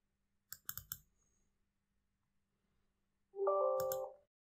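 A few quick computer mouse clicks, close and crisp in a quiet room, a cluster of three followed later by a single click.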